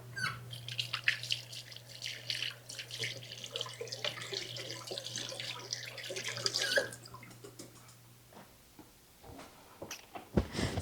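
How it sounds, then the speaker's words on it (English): A kitchen tap runs in a steady stream as fingers are rinsed under it, with splashing and clatter over the flow before it shuts off, followed by a few sharp knocks. "Let me get this out of the way and rinse off my fingers."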